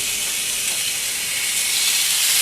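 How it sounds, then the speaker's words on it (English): Beef burgers sizzling on a hot grill pan, a loud, continuous bright hiss and crackle close up that holds steady throughout without pauses. "It's time to put the burgers onto my grill."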